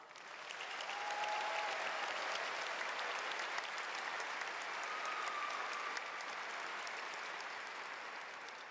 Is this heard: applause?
yes